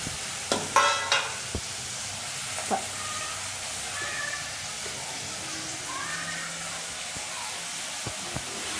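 Onion, green chilli and tomato fry in a pan for a jackfruit curry, giving a steady close sizzle with a few sharp stirring knocks early on.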